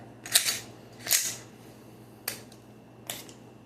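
A round is chambered in a handgun: a few sharp, close metallic clicks and snaps from the slide, spaced apart over a quiet background.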